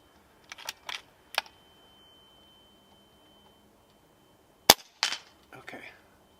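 Air Arms S510XS .25 air rifle shooting steel bullfrog targets: a few sharp, separate cracks, each followed by a short metallic ring, spaced irregularly over quiet background.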